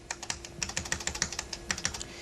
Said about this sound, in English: we can use the arrow keys to adjust this